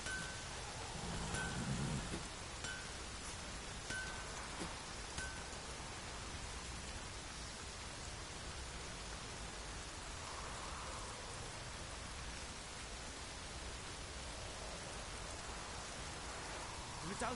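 Steady rain in The Witcher video game, an even wash of falling drops that runs continuously at moderate level, with a brief murmur of game sound near the start.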